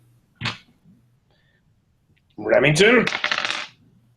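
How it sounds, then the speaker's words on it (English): Dice rolled during a tabletop game: a single short knock, then a burst of rattling clatter that tumbles and settles over about a second, close and fairly loud, with a brief spoken word before it. "Roll the dice."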